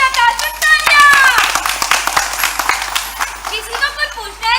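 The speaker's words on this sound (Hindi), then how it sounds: "तालियां।" Clapping from an audience at a Hindi stage play rattles in quick bursts while actors' voices carry over it, the claps sharp and near and mixed with lively speech throughout.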